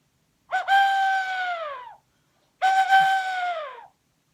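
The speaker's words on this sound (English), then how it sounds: "So this is a really fun instrument that I particularly love. It's a special whistle." Two separate hooting whistle notes, each rising then sliding downward, clear and close with a pause between them, like a small owl's call.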